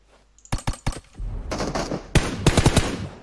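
Gunfire in PUBG Mobile, with a few separate sharp shots, then rapid bursts of automatic fire with crisp, punchy reports.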